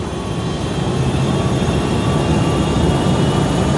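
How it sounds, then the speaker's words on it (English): An Aeroperú Boeing 757 jet airliner on its takeoff roll, a loud, continuous, broad engine roar that holds steady throughout with no talk over it. "On takeoff, the 757 performs perfectly."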